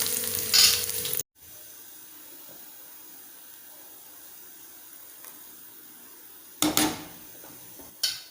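Onions frying for tempering in a pan, with loud bursts of sizzle and clatter at the start and near the end around a long stretch of faint, low frying, no voices.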